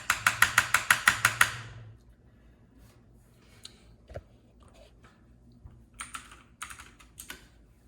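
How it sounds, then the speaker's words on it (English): A short, fast burst of clicky key presses on a laptop keyboard at a desk, followed by a quiet pause and a few faint scattered taps and clicks nearby. "I can press a few keys on the keyboard."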